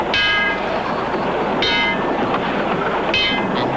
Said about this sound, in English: And riding on subways.